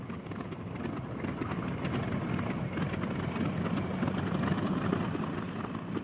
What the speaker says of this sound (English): Mussolini's airplane is waiting.